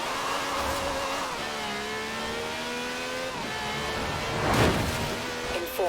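A Mazda drives in the racing game Forza Horizon 4, its engine droning steadily with rising and falling pitch, then a louder surge of revving and a brief burst of noise near the end.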